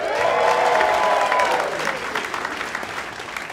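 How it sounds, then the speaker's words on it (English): A live comedy show audience claps and cheers loudly at first, then the applause gradually thins and fades over a few seconds. "Round of applause"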